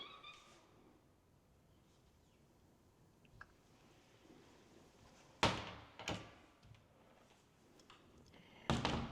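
Double doors of a storage closet in a luxury home open and close with loud thuds and a sharp slam, several knocks between about five and nine seconds after a quiet room tone stretch, with no talking.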